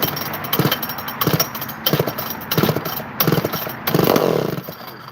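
A chainsaw with its throttle lock on is pulled over repeatedly, giving a series of rhythmic, sputtering cranking bursts that rise into a short, rougher catch near the end.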